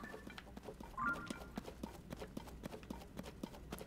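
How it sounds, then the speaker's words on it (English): Horses' hooves clip-clopping in a dark underground area of the video game Tears of the Kingdom, with steady repeated hoof strikes at moderate distance and a low ambient rumble beneath. "Those are horses."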